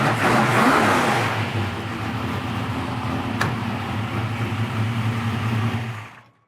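A warmed-up 1968 Chevy Nova V8 revs hard at first, then settles into a steady, loud, rumbling fast idle close by before cutting off abruptly at the end.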